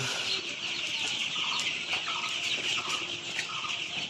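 Several 15-day-old colour bird chickens cluck and chirp softly in quick, scattered bursts over a steady high-pitched background hum, with no talking.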